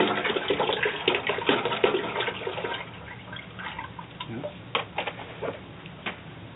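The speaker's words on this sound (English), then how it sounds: "take your goat milk, and then pour it in your pan" Goat milk is poured from a container into a pan, giving a steady close liquid splashing and gurgling that eases off partway through, followed by a few scattered clicks and taps.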